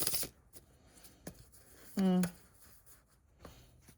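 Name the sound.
shuffling tarot cards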